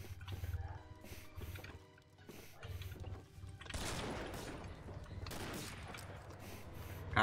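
Gunfire in the Combat Arms video game comes as a series of quick, sharp shots, some in short bursts, over a low background hum at moderate loudness.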